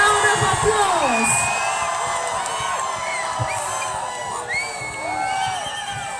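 Concert crowd at a live outdoor show cheering, whooping and shouting continuously, a dense sustained roar of many voices at moderate distance.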